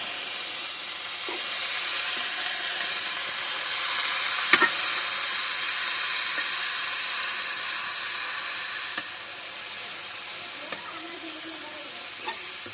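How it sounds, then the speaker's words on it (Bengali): Cabbage with green chilies and dried chili frying in a pan, giving a steady broadband sizzle with occasional sharp clicks of stirring, close and fairly loud, no talking. "এই তো পাতাকপি ভাজ বানছি"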